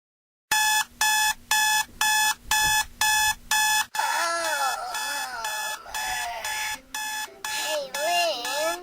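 A cartoon alarm clock rings in a run of loud, regular bursts, then carries on in a continuous jangle as a voice starts talking over it.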